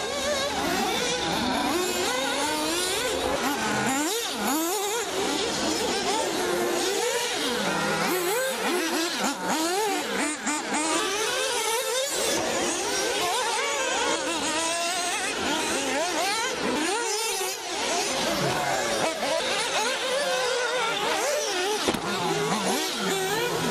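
Radio-controlled 1/8-scale off-road buggies race at the Montpellier Grand Prix in 2015, small nitro engines whining and revving continuously as several cars buzz past, pitch rising and falling through the whole run.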